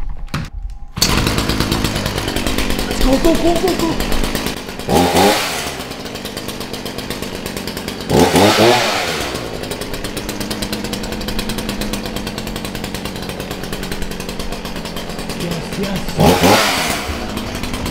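A chainsaw runs loud and close, revving up in several bursts over a steady buzzing idle, with brief speech near the start.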